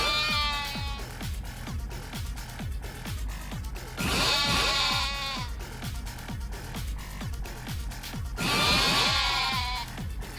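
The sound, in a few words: sheep bleating in the video game Yakuza: Like A Dragon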